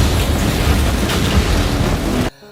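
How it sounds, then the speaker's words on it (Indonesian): A bomb vest explodes in an action film, a loud, dense roar of blast and rumble that holds for about two seconds, then cuts off abruptly to near silence. "Bom tersebut meledak"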